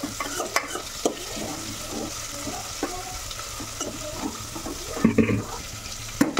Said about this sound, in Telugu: ఇవి బ్రౌన్ కలర్ వచ్చేంత వరకు వేపుకోవాలి